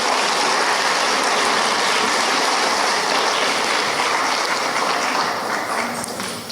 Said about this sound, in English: Should we do one more round of applause for everyone that we brought on stage?